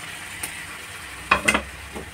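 Potato pieces go into a pan of red, well-fried masala, giving a soft, steady sizzle with a few short clattering bursts near the middle.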